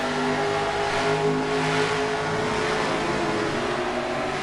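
Race cars in NASCAR Racing 2003 lapping an oval at Ontario, a loud continuous engine roar with layered droning tones from several cars close by, steady and unbroken throughout.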